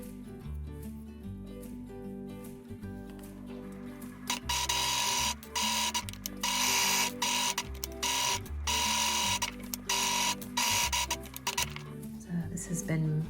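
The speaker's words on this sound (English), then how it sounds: "we're going to base stitch this entire square shape on just a 1/4 inch seam" A sewing machine base stitches around a square fabric shape for a scripture case at a quarter-inch seam, with bursts of loud, rapid stitching alternating with pauses as a person talks over it.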